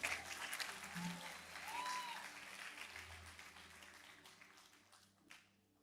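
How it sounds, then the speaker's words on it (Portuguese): Audience applause at a church service, a steady wash of clapping from a crowd that gradually thins out toward the end. "Vamos aplaudir a Jesus pela vida deles?"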